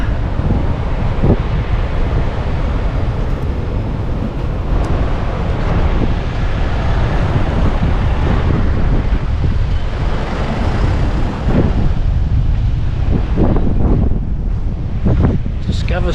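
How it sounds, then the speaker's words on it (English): Loud, blustery wind buffeting the microphone over a roaring wash of ocean waves rolling in on Stradbroke Island, continuous throughout with faint voices in the background. "Waves are rolling on in."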